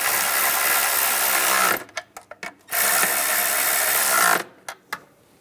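Ratchet tightening the bracket nuts on a Ram 1500 valve cover, two bursts of steady whirring clicks separated by a few sharp, isolated clicks and brief pauses, close and fairly loud with no talking.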